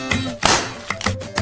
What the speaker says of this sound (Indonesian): Hancurkan coklat batangan ke meja.